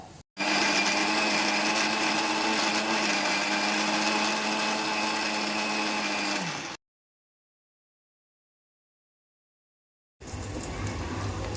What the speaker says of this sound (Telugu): ఉల్లిగడ్డ మగ్గిన తర్వాత మిక్సీకి వేసుకోవాలి